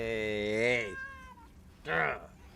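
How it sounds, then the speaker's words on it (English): A cat meows twice, first a long drawn-out, wavering meow and then a shorter, sharper one after a pause, close and distinct, with no talk around it. "The meow."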